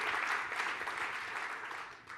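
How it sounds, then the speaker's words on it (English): Audience applause for a Wharton School student in stats and entrepreneurship at a Penn event on the NFL Big Data Bowl, a steady wash of clapping from a crowd, even and moderately loud for about two seconds, with no one speaking. "Can we all give him a round of applause for that?"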